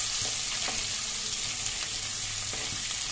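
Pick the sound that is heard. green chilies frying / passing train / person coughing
green chilies frying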